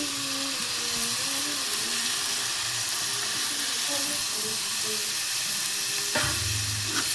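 Ginger garlic paste and chopped tomato frying in a pan for tomato saaru, a loud steady sizzle and hiss throughout with stirring scrapes and a brief clatter near the end, no talking.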